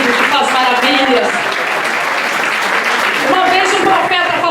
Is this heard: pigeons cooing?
no